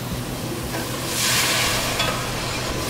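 A pan of sautéing onions and mushrooms hisses and sizzles more loudly as wine hits it, the broad steamy hiss swelling midway through and then settling.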